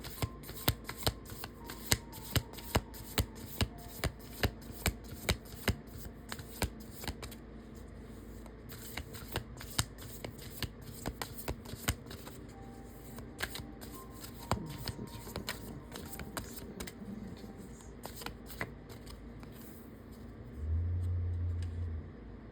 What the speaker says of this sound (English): I'm going to try and pull one card